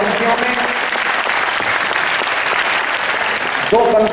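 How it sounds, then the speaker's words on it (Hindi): Dense, loud applause fills an indoor hall at the opening of a Hindi-language program and keeps a steady roar throughout; a voice briefly rises over the clapping near the end. "आपकी एक बार हाथ उठाकर जोरदार तालियां इस हॉल में बजें"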